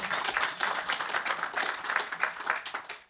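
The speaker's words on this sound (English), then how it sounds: "round of applause" Panel talk audience at a 50th birthday event claps in a brief, lively round of applause, many hands pattering quickly and evenly for about three seconds with little talk beneath.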